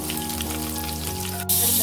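Chopped ginger frying in hot oil with mustard and fennel seeds makes a bright, continuous close crackle that suddenly grows louder near the end, and no one speaks.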